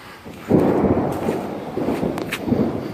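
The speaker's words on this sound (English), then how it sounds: "That was a thunder crack." A deep, rumbling crack of thunder in the woods rolls in after a quiet moment, then keeps grumbling low and loud for a couple of seconds.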